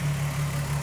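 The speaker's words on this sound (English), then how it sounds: "Car is idling." A VR6 car engine idling, a steady low hum with a constant droning tone, close and even throughout the short moment.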